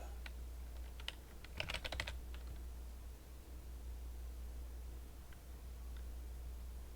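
A computer keyboard is typed on in a faint, quick cluster of keystrokes, then falls silent over a low steady room hum.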